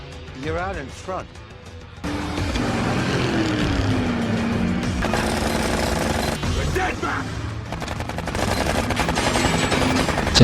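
During a chase between cars in a deadly street race, rapid automatic gunfire rattles in dense bursts from one car at another, loud and continuous over engine roar, with a voice talking over part of it.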